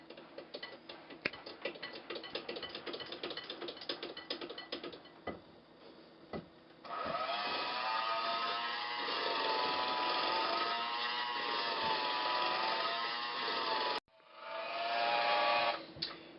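Electric mixer slowly blending chocolate cake batter made with dark cocoa, a steady mechanical whir that shifts pitch midway and runs continuously, cutting out briefly near the end before resuming.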